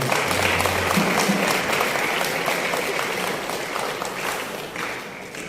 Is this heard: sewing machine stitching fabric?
no